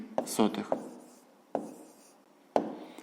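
Pen or chalk writing on paper or a board during a fifth-grade math lesson, heard as a few quiet scratchy strokes and taps spaced over a few seconds in a calm room.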